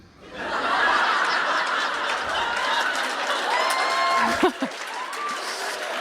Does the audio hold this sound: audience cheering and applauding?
yes